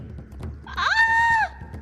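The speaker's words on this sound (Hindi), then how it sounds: "उन्हें एक औरत के चीखने की आवाज सुनाई देती है।" A woman screams as a horror-story sound effect: a single high, rising then sustained shriek of under a second, loud and alone over low background noise.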